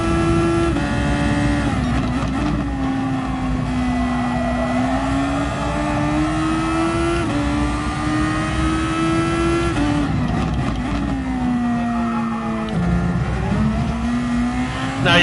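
DGT Thor race car engine in a racing video game, a loud continuous roar whose pitch climbs and drops through several gear shifts while the car takes a corner, close and steady with no talking.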